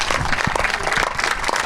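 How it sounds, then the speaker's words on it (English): An audience at a Garden Cinema screenwriting talk applauds the guests, a dense, steady wash of many hands clapping together at close range with no voices over it. "Big round of applause to Daniel and Luna"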